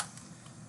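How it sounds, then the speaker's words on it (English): Brief burst of typing on a computer keyboard, a quick run of soft, close key clicks in a quiet room. "now I'm going to type that in"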